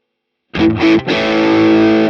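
A short, distorted electric guitar phrase through a Boss Katana amp with 315 Hz boosted plays loudly: two quick plucked notes, then a sustained chord with a boxy, honky midrange ringing out.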